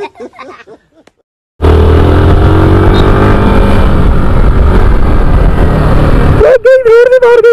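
A new motorcycle runs hard during a burnout, a loud, sustained, rough engine roar with rising revs that starts abruptly and then cuts off. Voices are heard before and after.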